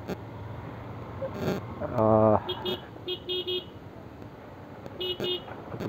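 Car horns honk in a morning traffic jam on a Dhaka road, heard from a motorbike: one long loud blast, then several shorter beeps near and far over the traffic hum.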